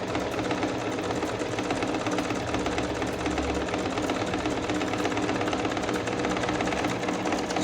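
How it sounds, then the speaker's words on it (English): A domestic sewing machine stitches a buttonhole, its motor and needle making a steady, close, rapid mechanical whirr and clatter with no voices. "I'm just going to put in my foot, and it's going to sew exactly the same size of button I had the first time."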